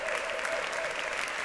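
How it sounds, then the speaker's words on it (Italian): Audience applause at a big band concert, a steady wash of clapping hands from a crowd, continuous and fairly even in level throughout. "quindi altro applauso"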